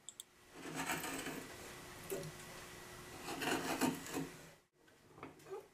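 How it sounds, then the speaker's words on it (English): A Narex gouge is pushed and rotated through wood while carving out a wooden spoon bowl, making close, soft scraping and rasping cuts in several uneven strokes before a brief pause. "Notice how the gouge leaves its cleanest cut when you rotate the gouge while pushing it through its cut"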